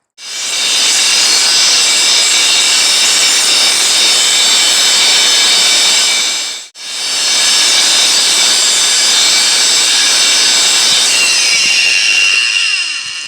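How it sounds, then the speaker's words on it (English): A lapidary grinder cutting petrified wood with water gives a loud, continuous hissing whine, close and alone, which stops for a moment halfway and then starts again. "Go ahead and grind away."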